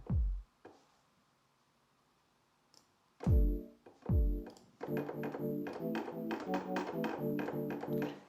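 A harp sample from Splice run through an arpeggiator for a UK deep house and garage groove: a few isolated plucked notes, then a steady, rapid cascade of bright plucked tones rising and falling in a repeating pattern, with no voices.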